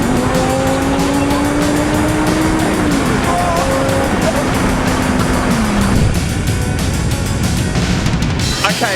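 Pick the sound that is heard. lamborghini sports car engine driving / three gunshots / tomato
lamborghini sports car engine driving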